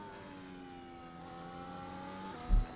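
A simulated race car engine in iRacing holds a steady high-pitched drone at the rev limiter with a faint stutter, ending in a brief low thump, with no voices.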